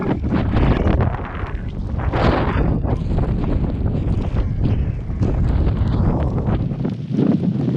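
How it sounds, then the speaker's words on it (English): Strong wind buffets the microphone in loud, rumbling gusts, roaring and rising without a break, on the mountaintop at Clingmans Dome. "A little on the windy side."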